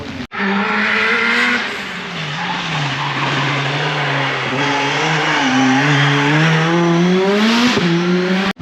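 A car at the Peugeot festival after a rain downpour, apparently with electrical trouble, roars loudly with a steady, close engine note that rises and falls with tire noise throughout.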